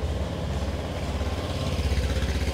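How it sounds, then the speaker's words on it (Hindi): A Honda Dio 125 scooter idles up close, its engine and twin-barrel exhaust giving a steady, low, rhythmic putter with an even pulse and no talking. "और एग्जॉस्ट के साउंड को सुना देता हूँ।"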